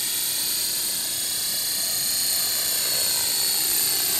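A Belt CP radio-controlled helicopter flying at a park, its steady high-pitched rotor and motor whine holding loud and constant throughout with no talk.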